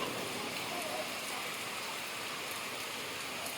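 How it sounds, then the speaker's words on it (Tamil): Heavy rain pours outdoors as a dense, even hiss that stays constant and fairly loud throughout, with no pauses. "நல்லா மழை தான் பெய்யுது"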